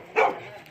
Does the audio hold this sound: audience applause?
no